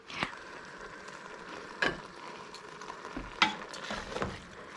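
Ground beef for spaghetti sauce fries in a pan with a soft steady sizzle, broken by several sharp scraping stirs of a utensil, close and fairly quiet.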